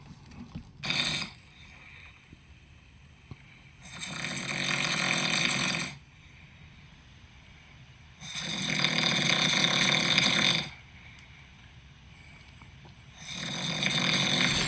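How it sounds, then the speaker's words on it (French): A man snores beside the listener at about 2 a.m., four long rasping breaths spaced several seconds apart, fairly close and loud, with near silence between them. "ça, c'est lui qui ronfle à côté de moi"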